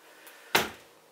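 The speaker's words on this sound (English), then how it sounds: "You've got your cabinet that opens." A kitchen cabinet door in a manufactured home with a laminate countertop, opening or closing with a single short knock, near and fairly loud, preceded by a faint tap.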